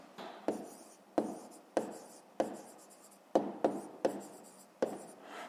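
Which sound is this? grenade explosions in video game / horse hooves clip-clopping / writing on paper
writing on paper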